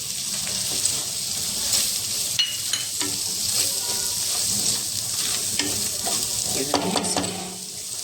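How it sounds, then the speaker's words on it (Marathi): Gram flour roasts in oil with red chilli powder for a Maharashtrian fish curry, making a continuous close sizzle and hiss with stirring scrapes and light clinks of a spoon against the pan. "कच्चं नाही, भाजून घ्यायचं बेसन."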